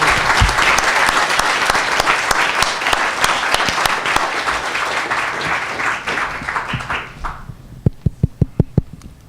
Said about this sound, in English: I think it's all right to applaud this group after their four presentations.